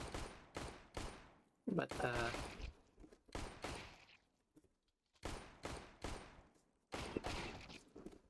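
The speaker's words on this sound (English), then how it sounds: "Glock also has a burst fire mode that you can use to get 3 shots off at once." Glock pistol shots in burst fire mode in the game CS:GO, loud clusters of three quick cracks repeated at intervals, with a brief spoken word in between.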